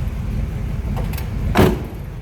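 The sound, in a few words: car door closing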